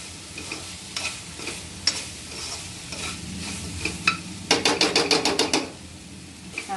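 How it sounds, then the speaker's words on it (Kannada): Chicken pieces frying in a pan for chicken pickle, a soft steady sizzle broken by scraping stir strokes and a quick burst of rapid clattering taps near the end, close by with no voices. "ನೋಡಿ ಇವಾಗ ಇಷ್ಟು ಡ್ರೈ ಆಗುವವರೆಗೂ ಫ್ರೈ ಮಾಡ್ಕೋಬೇಕು"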